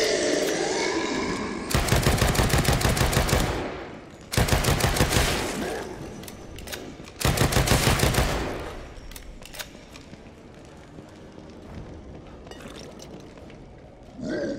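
Bursts of gunfire in the survival horror game The Evil Within 2, played in first person: three loud sustained volleys of rapid shots, each a couple of seconds long, then quieter scattered noise and faint activity.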